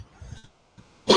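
A single harsh cough bursts out loudly at the end, after a few muffled throat sounds and a brief silence, from a lecturer in an indoor setting.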